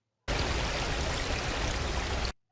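Fresh mountain stream water rushing and splashing in a steady, dense broadband wash, close and loud, with no voices over it.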